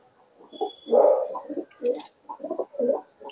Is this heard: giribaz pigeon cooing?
yes